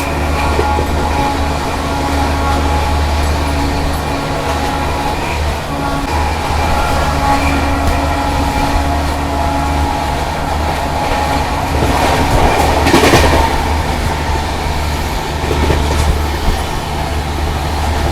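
Kanpur Shatabdi Express runs at speed past a tanker freight train hauled by two WAG9 locomotives, a steady loud rail roar with rhythmic wheel clatter and a brief louder burst as they pass.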